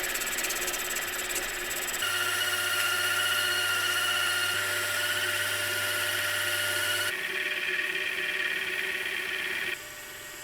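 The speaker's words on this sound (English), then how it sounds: "Now I can face the front side and turn the outer diameter down to about 80 mm." A metal lathe faces the front of a part and turns its outer diameter down to about 80 mm, making a steady machine whine with a constant motor hum. Partway through the cut the pitch shifts, and the sound drops near the end.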